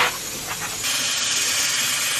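Oil heating in a pan before frying fish gives off a steady hiss that grows louder and fuller after the first second and then holds evenly, with no talking.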